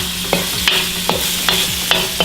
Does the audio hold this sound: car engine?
no